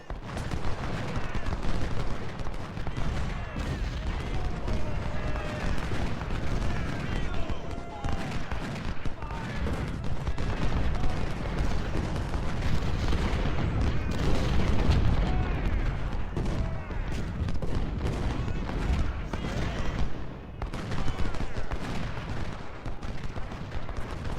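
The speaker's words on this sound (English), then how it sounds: "Quite effective fire from the artillery, actually." Dense, continuous artillery and musket fire from a Civil War battle in Ultimate General: Civil War, with booming cannon shots and crackling volleys in a constant dense roar for the whole stretch.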